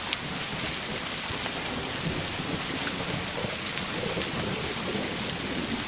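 Heavy rain pours steadily in a dense, even roar over the hills near Jaflong, Bangladesh, with a low rumble underneath and no voices.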